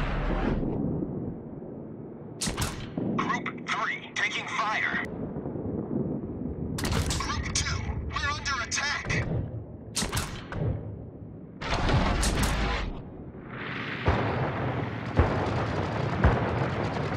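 Naval battle in World of Warships with a Japanese carrier, Hosho, in the fight. Heavy booming gunfire and rumbling explosions come one after another, loud and close, with crackling blasts over a constant low roar and no talk.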